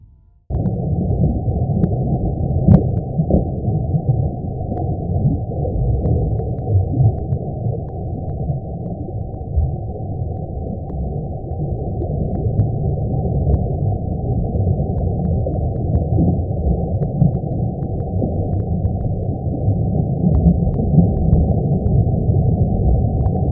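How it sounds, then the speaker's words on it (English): A sonified recording of the sun: a steady, dense low rumble with churning, roaring texture fills the whole stretch, unbroken and fairly loud, with no voices. "Here is the sound of our sun."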